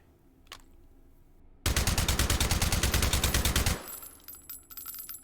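Suppressed SCAR Mk 17 rifle fired in the H3VR virtual reality game: a loud rapid burst of about twenty muffled shots in steady rhythm lasting roughly two seconds, followed by faint mechanical clatter and ringing tones.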